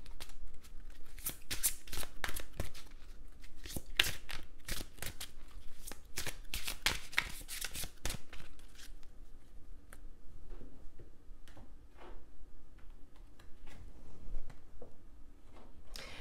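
Oracle cards being shuffled by hand, a dense run of crisp riffling flutters for about eight seconds, then sparser, softer card taps and slides close by.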